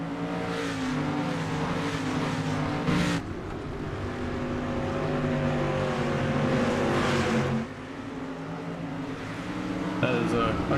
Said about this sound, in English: cars sound surprisingly good.